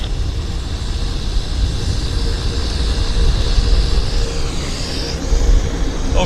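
A jet airliner climbs out after takeoff at Vancouver airport, a loud, steady broadband roar heard from the ground that swells slightly midway and holds without pause.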